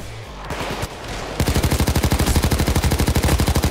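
Rapid automatic gunfire shoots at the player in the video game PayDay 2, a loud, steady stream of evenly spaced shots that follows a few scattered single shots.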